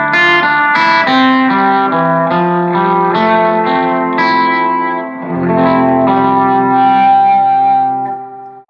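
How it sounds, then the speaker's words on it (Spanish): An electric guitar plays sustained chords through a reverb tank set to an exaggerated spring reverb, loud and close, each strum blooming into long washy tails with distortion and chorus-like shimmer. "cuando voy con el tanque de reverb, es de la siguiente forma, con una reverb muy exagerada de muelle"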